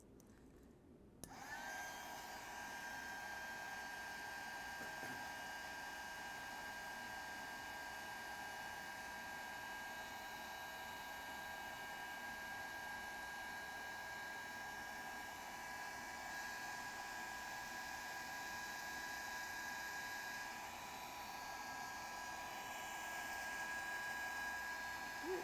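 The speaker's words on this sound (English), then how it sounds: "let's grab our heating tool and we'll go over our golden egg that we painted with our glitterific pop color" A craft heat tool blows hot air over a golden painted Easter egg coated in glitter pop color, giving a steady, loud whooshing roar with a whine that starts abruptly and holds unbroken throughout, with no talking.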